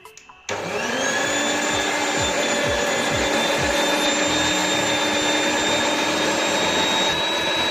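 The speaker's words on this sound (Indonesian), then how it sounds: "Ini adonannya kita mixer kembali" Electric mixer beating butter cake batter, starting abruptly after a few brief knocks and then running as a loud, steady, high whining drone with a faint rhythmic churning beneath it.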